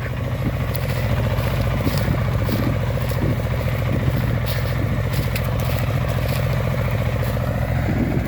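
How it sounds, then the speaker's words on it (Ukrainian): A Shifeng 350L 4x4 tractor ploughing a corn field gives a loud, steady engine drone that stays constant and close throughout, with no talking. "Ось так орає шифінг."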